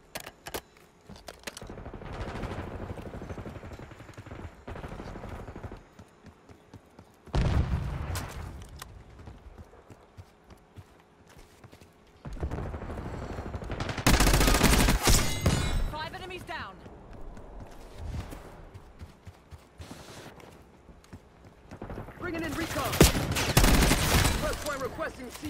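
Bursts of automatic gunfire in a Black Ops 6 hardpoint match, heard as several separate loud volleys with quieter gaps between them, plus game announcer callouts.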